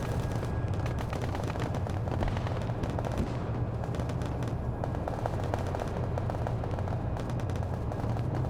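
Anti-tank weapons fire during an Arma 3 battle amid a dense, continuous barrage of gunfire and booming blasts. The roar is loud and unbroken, with no talk.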